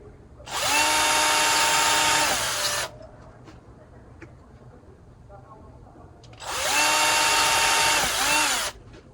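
A battery-powered cordless drill fitted with a very thin 2 mm bit bores into leather in two loud, steady whirring bursts of about two seconds each, separated by a quieter pause.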